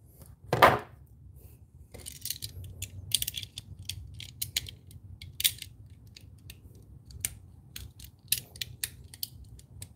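Needle-nose pliers (Knipex or Milwaukee) snip a short length of wire: one sharp cut near the start, then a scatter of small clicks and handling noises over low hum.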